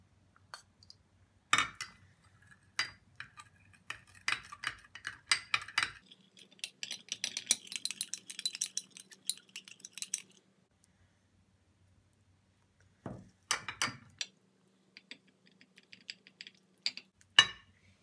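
A multani mitti face pack paste being mixed with honey and milk in a small bowl, with quiet close clicks and light scraping taps of a spoon coming in bursts between pauses, and no voices.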